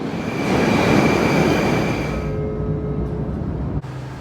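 Older Moscow Metro carriage riding through a tunnel, a loud steady rumble with a high whine and tonal hum that eases after a couple of seconds, then a brief thump near the end; no talking.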